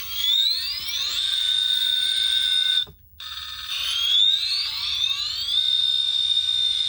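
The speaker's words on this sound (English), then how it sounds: "that beep is going to be turned off" A loud, piercing electronic tone rises and holds, drops out for a brief moment, then sweeps up again and continues steadily, alone without voices.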